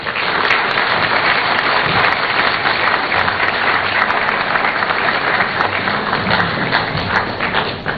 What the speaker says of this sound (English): Another round of applause for our chairman for today